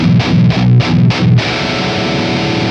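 Electric guitar played through a Synergy amp module with a pre-distortion treble boost: four heavily distorted chugging chords in a quick rhythm, then a sustained ringing distorted chord, loud and close.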